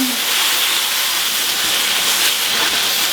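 Small shrimp hit hot oil in a frying pan for stir-fried noodles, producing a loud, close, continuous hissing sizzle that holds steady throughout.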